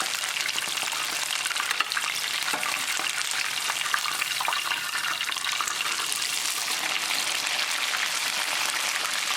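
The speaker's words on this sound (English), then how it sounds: "When you're frying, you can cover it." Chicken strips deep fry in hot oil, giving a dense, continuous crackling sizzle with fine popping throughout. The sound is close and steady.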